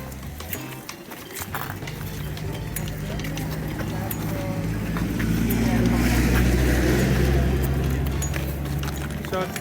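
Cars pass on a street in a town in Greenland, a steady roadside traffic rumble that swells as a vehicle draws near, with people talking and footsteps close by.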